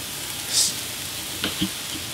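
Steady crackling sizzle of chopped bell peppers frying in a hot pan, with a couple of soft clinks partway through.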